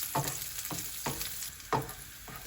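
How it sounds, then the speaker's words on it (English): Soft, steady sizzling of sultanas frying in hot ghee, with light stirring scrapes at intervals and no voices. "It smells so nice frying in the ghee."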